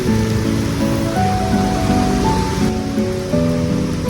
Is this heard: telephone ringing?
no